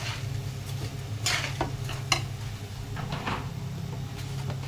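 Spices are stirred into chicken khichuri in a pan with a low sizzle and a steady hum beneath. The spoon scrapes and knocks against the pan in occasional bursts.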